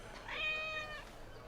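A cat in the game Assassin's Creed Mirage lets out a single clear, drawn-out meow with a rising then falling pitch, close and distinct over a faint background hum.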